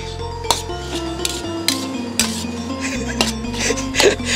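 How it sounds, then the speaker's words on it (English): A utensil stirs fried rice in a pan, giving scattered clinks and scrapes over a steady background hum, with no speech. "All right, mix it all through."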